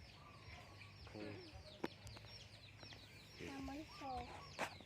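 Hens cluck softly and intermittently at close range, with occasional sharper calls and a faint background hum.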